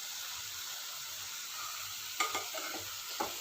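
Mutton pieces sautéing in oil for a chilli mutton fry, giving a steady soft sizzle with a couple of brief stirring scrapes near the end, fairly quiet and with no voices.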